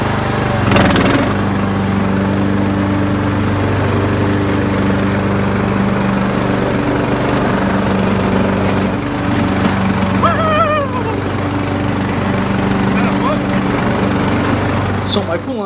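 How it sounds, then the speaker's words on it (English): A Poulan Pro riding mower with a 15.5 hp Briggs and Stratton engine and 42-inch deck runs steadily with a loud, constant droning hum, joined by a few faint chirps. "So my Poulan Pro is a nice lawnmower."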